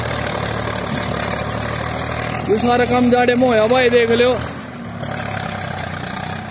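A Swaraj 855 tractor engine runs steadily in winter, a close low mechanical drone throughout, with someone talking over it for a couple of seconds before the engine continues alone.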